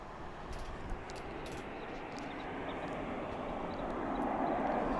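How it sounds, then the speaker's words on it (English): An airliner roars on departure from DFW International Airport bound for LAX, a broad rumbling jet noise that swells gradually louder at a distance. "And here goes the flight off to LAX"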